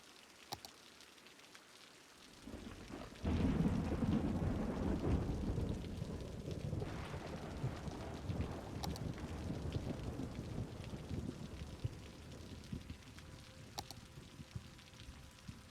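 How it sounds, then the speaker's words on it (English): Rain and thunder in the city-building game Cities: Skylines: a steady, soft rainfall hiss builds after a quiet opening, with a low rolling rumble of thunder and faint wind underneath. "It's a bit rainy, you're not kidding, Mikey."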